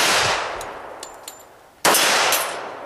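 Gunshots ring out at a shooting match stage, two sharp loud reports separated by a gap, each with a long echoing decay and faint metallic clangs from targets in between.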